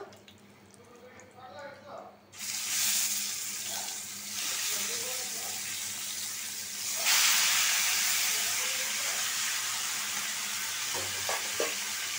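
Chicken pieces dropped into hot oil in a pan for a thin chicken and potato curry burst into loud hissing sizzle after some quiet talk, then swell louder as more pieces are added, frying steadily close by.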